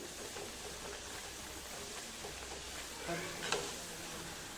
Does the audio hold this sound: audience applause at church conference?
no